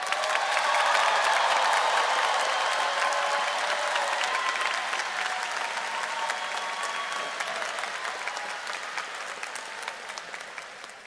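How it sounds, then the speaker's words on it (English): A large audience at a high school graduation ceremony claps steadily, loud at first and then slowly thinning and fading over about ten seconds. "Please join us in applauding these Meadowbrook scholars."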